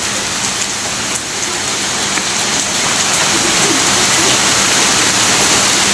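Heavy rain pours onto a flooded road standing knee-deep in water, making a dense, steady, loud hiss that stays unbroken from start to finish.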